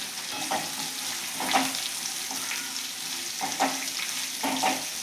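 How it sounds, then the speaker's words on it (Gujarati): Okra and potatoes sizzle steadily in a pan for a bhinda batata shaak while a spoon stirs them in about five distinct scraping strokes, each rising briefly above the constant frying hiss. "હવે આપણે બટેકાની અંદર ભીંડાને એડ કરી લઈશું હવે આ બધું જ આપણે બટેકા અને ભીંડાને મિક્સ કરી લઈશું"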